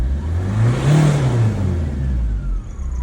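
A Vauxhall Astra H diesel engine revs up and settles back, a close, steady mid-pitched drone with no voices.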